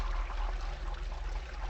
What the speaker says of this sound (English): the ghost now has the ability to flush the toilet